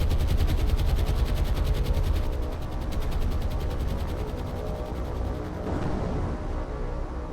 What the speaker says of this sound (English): Good torpedo strike.